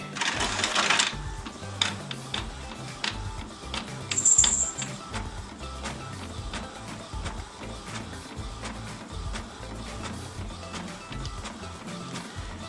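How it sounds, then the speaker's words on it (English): An old Epson printer prints with steady mechanical whirring and rapid clicking, a busy close-up chatter that runs continuously with a brief louder burst partway through. "says that it's printing"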